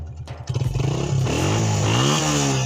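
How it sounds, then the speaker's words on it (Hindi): A motorcycle engine at a farm field idles with a low putter, then revs up and runs steadily, with pitch rising and falling as the throttle changes, close and loud with no voices. "दसना है मेरे मोटरसाइकिल का साउंड किस तरह है"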